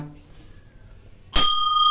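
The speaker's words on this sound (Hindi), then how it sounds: "घंटी बजा के थोड़ा सा कर दिया जाए" A bright metallic Hanuman temple bell is struck once and keeps ringing with a long, sustained shimmer after a stretch of quiet low background noise.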